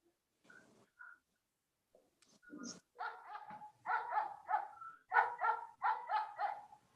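A small dog barks in a quick run of sharp, close yaps, a few hesitant ones first and then a rapid series.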